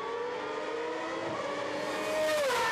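Superleague Formula race cars roar past the start-finish line, a high engine whine with a rising, Doppler-bending pitch as one car sweeps by near the end, loud and continuous.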